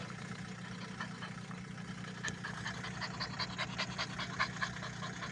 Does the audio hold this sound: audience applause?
no